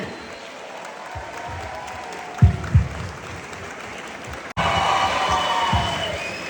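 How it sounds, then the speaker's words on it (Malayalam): Applause from a college audience at a radio station launch event with a film crew, a crowd clapping that starts loosely, dies briefly and then swells into a dense, steady roar of hands. "നല്ലൊരു കൈയടി കൊടുക്കാം"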